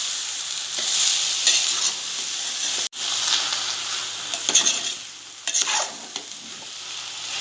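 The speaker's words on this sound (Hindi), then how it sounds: "अब मैं इसमें ये निथारने के लिए जो चावल रखे हैं वो डालूँगी। अब मैं इसे अच्छे से मिक्स करूँगी।" Drained rice being stirred in a sizzling pan while zarda is made, a continuous close hiss with scraping spoon strokes, one sharp knock against the pan partway through and clustered stirring scrapes afterward, with no voices.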